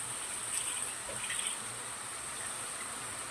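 A steady wash of water poured into a cooking pan, flowing continuously, moderately loud with a hissy quality throughout.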